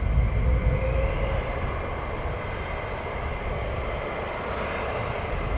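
Military jets taxiing at RAF Lakenheath airfield on a cold day, a steady broad engine roar and rumble heard from a distance, constant in level throughout with no one speaking.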